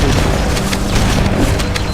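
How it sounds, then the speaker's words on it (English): Plasma grenade explosion in Halo: Combat Evolved on PC, a loud sustained booming blast with crackling debris that fills the whole moment and stands alone without talk. "You walked right into like a plasma grenade explosion."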